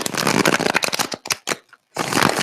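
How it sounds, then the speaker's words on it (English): Tarot cards being shuffled in quick riffling bursts, crisp and close, with a short pause before a final burst. "That's a good shuffle right there."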